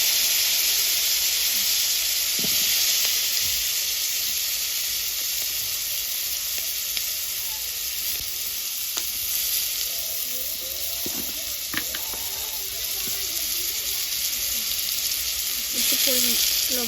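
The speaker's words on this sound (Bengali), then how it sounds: "এবার আমি এই তেলের মধ্যে আলু কটা প্রথমে ভেজে নেব" Cut potatoes frying in oil in a pan for a katla fish and bean curry, a steady bright sizzle that runs throughout with occasional clinks and stirring.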